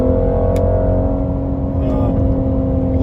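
A 2020 Mercedes-AMG GLC 43 engine hums steadily under acceleration, heard from inside the cabin as a sustained, even drone with a faint brief tick early on.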